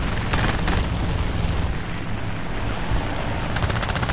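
Rapid, continuous machine gun fire from a He-51 biplane in War Thunder air combat, loud and close, with bursts that pause briefly mid-way before resuming.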